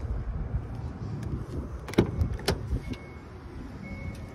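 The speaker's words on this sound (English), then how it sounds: "It does have power liftgate when the car's not running." Power liftgate motor on a 2022 Hyundai Sonata Hybrid Ultimate trim, a low whirring hum with a couple of sharp clicks and a thunk near the middle, close by and with no talking.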